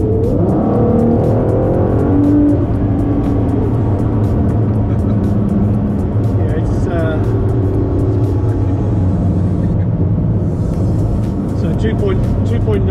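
A Ford in sport mode accelerates hard with a loud, steady engine drone and rising revs that drop at gear changes, heard from inside the car while someone talks over it.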